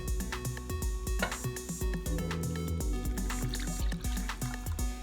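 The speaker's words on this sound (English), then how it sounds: "we're going to add 2 cups of whole milk in here" Whole milk poured into a bowl of bread dough ingredients, a near, steady liquid splashing and trickling with drip-like patter throughout, over a background of light music and no speech.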